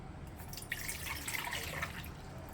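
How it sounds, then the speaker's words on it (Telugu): Water pours in a steady, trickling stream into a bowl, close and moderately quiet, with gurgling changes in pitch as it fills. "ఒక గిన్నెలోకి ఒక కప్పు నీళ్లు తీసుకోవాలి"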